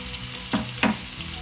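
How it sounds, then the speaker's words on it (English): Onions and curry leaves frying in a pan for a tofu curry, a steady close sizzle with two brief louder bursts as the ingredients hit the hot oil, no talking. "So we're going to add in the onions now. And the curry leaves."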